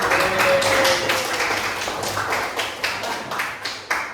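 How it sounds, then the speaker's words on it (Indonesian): A classroom of students claps hands together in a quick burst that thins out into scattered, uneven claps, fairly close and without talking over it. "Tepuk tangan."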